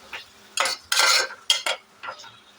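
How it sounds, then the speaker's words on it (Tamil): Chopped tomatoes are stirred in a cooking pan for tomato thokku, heard as several short bursts of metal utensil scraping and clinking against the pan, close and fairly loud, with quiet gaps between strokes. "இப்போ இதை நல்லா மிக்ஸ் பண்ணிக்கலாம்."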